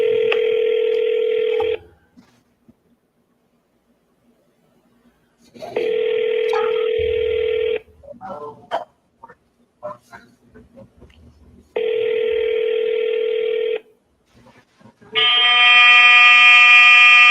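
Phone tones during a call on a live real-estate wholesaling seller-call session: three long steady ringback tones separated by pauses, brief rustles and faint talk between them, ending in a harsher multi-tone signal.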